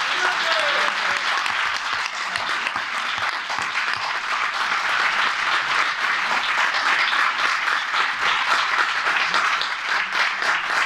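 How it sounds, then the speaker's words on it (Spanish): Sustained applause from a seated audience at a talk on children's rights and shared custody in Alcobendas, dense steady clapping filling the whole stretch at close, even loudness. "Muchas gracias por venir. Un aplauso."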